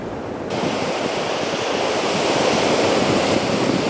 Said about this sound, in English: Man, you can really hear that wind.